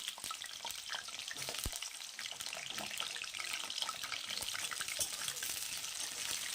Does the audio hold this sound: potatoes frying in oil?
yes